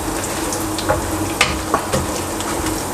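Cashews and Thai red dried chilies sauté in a hot pan, a loud continuous sizzle with a few soft clicks of stirring, close up and without speech.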